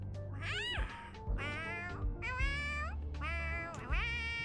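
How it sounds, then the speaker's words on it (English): A small cat-like creature in Honkai: Star Rail meows four times in quick succession, clear and close, with rising and falling pitched calls. "Sound more like a cat"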